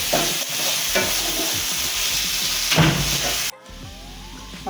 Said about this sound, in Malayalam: നന്നായി ഇളക്കുന്നുണ്ട്.